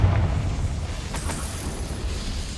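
A Confringo blasting spell goes off in the Hogwarts Legacy video game, a loud, boomy explosion with a sharp burst near the middle and a low rumble continuing under steady background sound.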